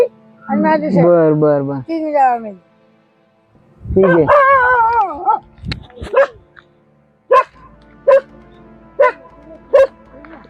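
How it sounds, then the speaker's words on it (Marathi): A dog barks outdoors near a village cremation ground, first in long howling yelps, then in a series of short, loud, evenly spaced barks, close by and standing alone. "आजी आता ज्या दिशेने कुत्र भुकतंय"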